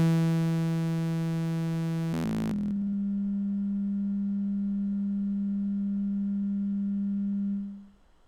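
A synthesizer oscillator under hard sync, pulse offset shifting negative: a bright, harmonically rich buzzy tone breaks into a brief garbled transition, then settles into a purer steady pitch as sync is lost, holding alone before cutting off.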